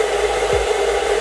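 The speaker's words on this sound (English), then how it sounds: "So if you warm it up a little bit with your blow dryer, the application is way easier." A blow dryer warms Kryolan Paintstick cream makeup, a steady loud whooshing roar of air close by, continuous and without talk for the whole short stretch.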